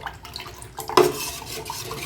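Ragi flour porridge being stirred in a pot on a stove, soft scraping and sloshing with a sharper clink of the spoon against the pot midway, close and alone.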